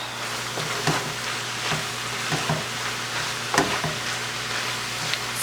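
Taco meat mixture, a little over two pounds, is stirred in a frying pan, with soft sizzling underneath and repeated scraping strokes and small clatters at an uneven rhythm, close by and moderately quiet.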